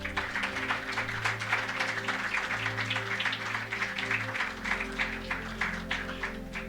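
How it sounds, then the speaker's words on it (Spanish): Applause from a church congregation at a family seminar, a dense steady clapping that fills the room, with sustained organ or keyboard tones held underneath throughout. "démosle ese aplauso al Señor."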